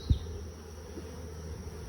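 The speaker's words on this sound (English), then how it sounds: "There's bees on this side" Bees in a beehive give off a low, steady hum at close range, with a brief thump near the start and no voices.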